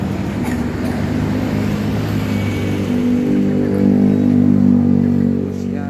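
A Rafael bus rolls into its depot, its heavy engine giving a steady, loud, close rumble that swells slightly midway and holds without pause.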